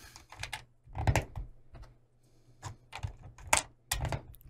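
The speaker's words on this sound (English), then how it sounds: "Press the pins into the holes" Plastic pins of an X-keys key blocker are pressed into keypad holes, giving a series of faint, close clicks and snaps spaced irregularly with quiet gaps between.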